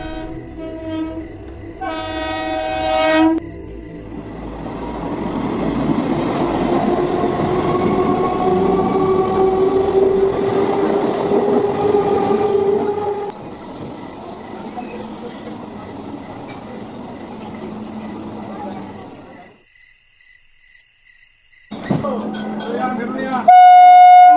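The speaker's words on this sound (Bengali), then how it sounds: "বেশ কিছুক্ষণ দাঁড়িয়ে থাকার পর অবশেষে ট্রেন আসলো।" A train pulls into a station, its rumbling wheels and squealing brakes building loudly for several seconds before fading, followed by a brief horn-like tone near the end, with voices faintly present.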